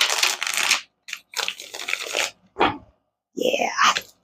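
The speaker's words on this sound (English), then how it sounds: "one more shuffle" A tarot card deck being shuffled, giving several bursts of papery riffling and crunching in quick succession, close and fairly loud, with short pauses between them and no talking.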